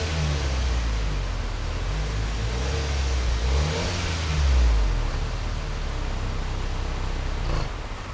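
A 2020 Acura RDX with its 2-liter turbo four-cylinder engine accelerates, giving a steady, loud engine drone that climbs and swells in pitch midway before settling, heard alone without talk.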